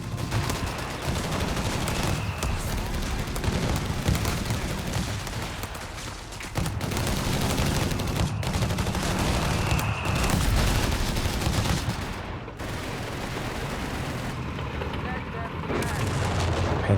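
Machine gun fire in Company of Heroes 3 keeps up a dense, loud clatter of shots and booming battle noise almost without pause, with a voice commentating over it.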